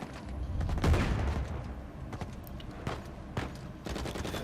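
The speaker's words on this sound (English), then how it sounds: "there's only 2 enemies shooting at me" Enemy gunfire in the Uncharted 4 jungle forest encounter: scattered bursts and single shots crack out at irregular intervals, moderately loud with a denser volley near the start, under faint game ambience and no talk.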